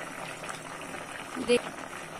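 A pot of fish curry with beans, potato and tomato bubbles at a soft boil, a faint continuous simmering hiss with a brief louder clink near the end.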